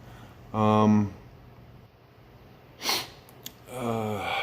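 A single short, sharp sniffle from someone with the sniffles, landing between stretches of close talking.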